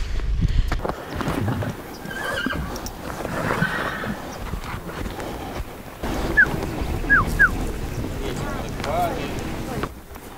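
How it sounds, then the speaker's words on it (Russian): A lively horse whinnies and snorts close by in the village of Udoga, Mogilev Region, Belarus, with hoof clops and gusts of wind buffeting the microphone; people speak nearby. "Она такая резвая лошадка."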